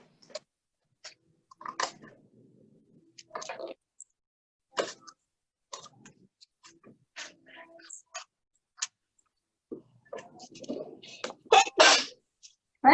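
A sneeze bursts out near the end of a classroom session, loud and sharp, following scattered clicks, taps and brief voices from people in the room.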